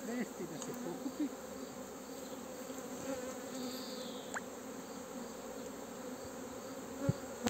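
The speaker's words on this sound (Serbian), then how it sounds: "Sada ćemo vidjeti da li će pčela ulaziti u" Bees buzz steadily at a hive in a dense, continuous drone, with a few louder individual bees passing close by over the hum.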